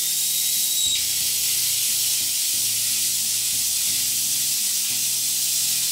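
A plasma cutter with a built-in internal air compressor running, giving a loud, steady hiss of rushing air over a low, stepped electrical hum that shifts in pitch as it works.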